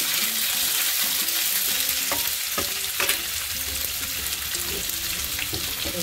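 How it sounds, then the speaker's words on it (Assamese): Pumpkin frying in hot oil in a kadai, a loud steady sizzle with a few spatula scrapes and taps against the pan, close up and without talk. "অলপ ৰঙা কৰি ভাজি ল'ম।"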